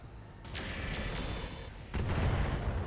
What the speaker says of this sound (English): we're going to fire on the Griffin with our missiles